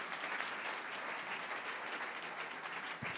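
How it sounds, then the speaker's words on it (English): Steady audience applause at a startup pitch event in Atlanta, a dense wash of many hands clapping at even loudness for the whole stretch, with no voices over it. "Let's give a big round of applause to Skill."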